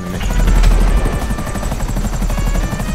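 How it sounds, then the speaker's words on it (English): Helicopter flying in the video game GTA 5, a steady loud rotor thump and engine drone holding throughout without a break. "I should hop in the chopper quickly"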